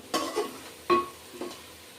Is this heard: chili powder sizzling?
yes